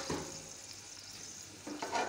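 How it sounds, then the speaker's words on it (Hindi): Ginger garlic paste frying in hot oil in a pan, a soft steady sizzle throughout with a brief stir or two near the start and end, no talking. "ऑयल ऐड करने के बाद हम इसमें अदरक लहसुन का पेस्ट ऐड कर लेते हैं।"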